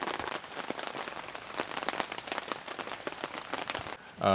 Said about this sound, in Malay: So hujan pun makin lebat, nak rehat-rehat jap.